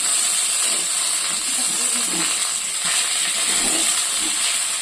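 Moringa drumstick pieces fry in hot oil in a home kitchen alongside already-fried potatoes, giving a loud, continuous hiss that holds steady throughout with no talk.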